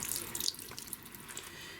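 Water pours from a hose into a washing machine drum in an off-grid laundry setup, a soft, close splashing trickle with small drips and gurgles, fairly quiet and with no talking.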